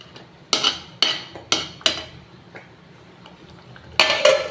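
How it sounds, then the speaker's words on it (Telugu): A metal lid is set onto a cooking pot of foxtail millet tamarind rice (korra pulihora), giving a run of sharp, close metallic clinks and a louder double clatter at the end. "మూత పెట్టేసుకుందాం."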